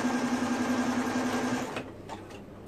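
A sewing machine hums in one steady, close run while stitching stretched layers of mesh for boys' shorts, then stops abruptly, leaving a few faint clicks.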